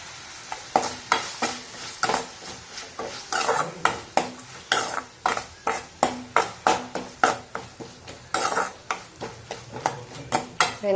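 Onions and tomatoes sautéing in a pan with crumbled idli, stirred in a steady run of scraping strokes over a soft sizzle, close and fairly loud, with no talk.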